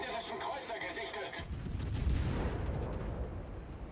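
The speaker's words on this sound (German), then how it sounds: "Ich habe jetzt schon mal blind drauf geschossen." Naval gunfire in the World of Warships video game: a heavy, booming cannon salvo that erupts partway through and rolls out into a rumbling decay, following quieter game ambience, under faint talk.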